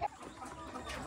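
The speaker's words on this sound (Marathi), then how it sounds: "बाकीच्या कोंबड्या मस्त अशा फ्री रेंजमध्ये आपल्याला फिरताना दिसत असतील" Free-range hens give a quick, soft cluck or two nearby against quiet outdoor background noise.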